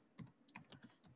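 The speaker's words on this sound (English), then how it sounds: "Typing again." Quick bursts of typing on a computer keyboard, several close, distinct key clicks in an uneven rhythm, quiet and with no voice over them.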